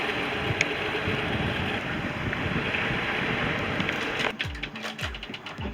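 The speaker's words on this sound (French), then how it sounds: "Plein vent arrière, le génois a du mal à tenir." A sailboat running dead downwind in strong wind on the Sognefjord in Norway, with the genoa struggling to hold its shape. Steady loud wind rush and water noise fill the clip, easing toward the end into choppier gusts and sloshing.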